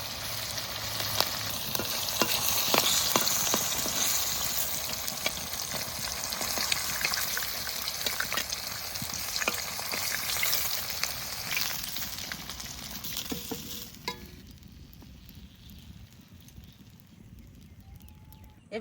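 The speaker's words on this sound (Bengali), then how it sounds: "সব মাছগুলো ভেজে নিই এই খোলাই দিয়ে।" Hilsa fish pieces fry in oil in a pan, giving a continuous close sizzle and spatter that stays loud for most of the stretch, then thins and softens toward the end.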